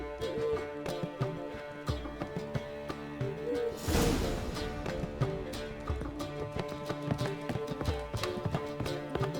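Geralt's horse Roach trots in The Witcher 3, its hooves clip-clopping in a steady rhythm under game music, with a brief louder whoosh midway.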